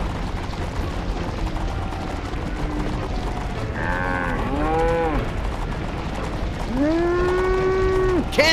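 Cows moo loudly during a cow race in a video game, several long rising and falling calls overlapping one another over a constant rumbling background, with no speech.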